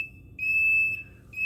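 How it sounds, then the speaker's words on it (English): Turn-signal beeper on a Nanrobot D5+ 2.0 electric scooter, a steady high electronic tone that holds for about half a second, cuts out, then sounds again, clear over a faint low background. "when you got the blinker on, it beeps."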